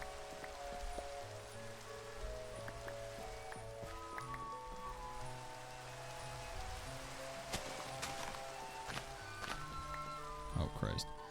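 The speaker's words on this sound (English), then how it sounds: "Rain's finally done. It was so loud." Rain falling in Minecraft: a steady, faint patter of rain throughout, with scattered tonal game sounds and a few clicks layered over it.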